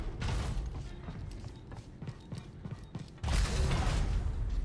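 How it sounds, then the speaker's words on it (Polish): A heavy sliding door in Star Wars Jedi: Survivor grinds and clanks through a series of mechanical creaks and thuds, then slams shut with a loud, sustained rumbling boom near the end. "To drzwi się zamknęły"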